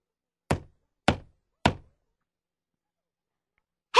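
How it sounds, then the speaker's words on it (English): Three firm, evenly spaced knocks on a door, close and loud against silence, followed by the brief start of another sound at the end. "Little Red Riding Hood knocks on the door of Grandma's house."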